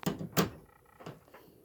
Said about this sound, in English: Let me shut the door behind myself.